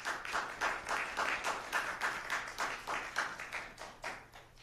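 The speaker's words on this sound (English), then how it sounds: "So let's give those sponsors a round of applause." A community concert audience gives a round of applause, fairly faint and distant, with dense clapping rising and falling in a steady rhythm throughout.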